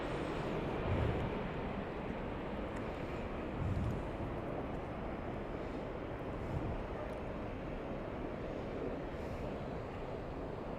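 Airliner flight 62 from Narita arrives at LA as a faint, distant, steady jet roar, a continuous broadband rush with no distinct events.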